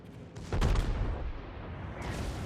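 Battleship main guns firing in World of Warships, a Friedrich der Große trading shots with an Iowa: a deep booming salvo swells after a brief lull, then rumbles on with a second broad blast near the end.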